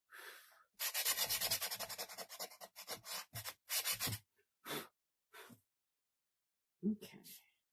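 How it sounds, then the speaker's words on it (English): Rhythmic rasping strokes of sandpaper rubbed by hand across wood for an arched window sign holder, quick repeated passes close up, slowing into a few scattered strokes with pauses. "dust I'm sanding off this wood"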